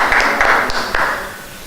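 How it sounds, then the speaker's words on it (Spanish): A group at a Christian coordination retreat in Peru applauding, a short burst of close, roomy clapping with a few sharp claps, fading out over under two seconds. "Vamos a dar un aplauso a nuestro Señor Jesús"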